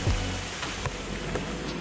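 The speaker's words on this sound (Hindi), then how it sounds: "फिर से दम झमाझम बारिश शुरू हो गई है" Heavy monsoon rain falls steadily during a trek to Dudhsagar waterfall in Goa, a dense, continuous wash of noise with no pauses and no voices.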